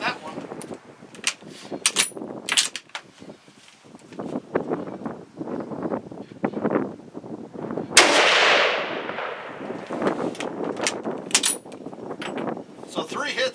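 Sharp gunshots from a decades-old M1917 rifle ring out across an outdoor range, loud individual cracks with one especially heavy blast and a long decaying tail, separated by pauses.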